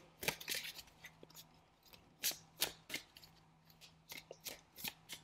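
Tarot cards are shuffled and drawn by hand, heard as soft papery riffles and flicks in irregular bursts, close but quiet, with no speech.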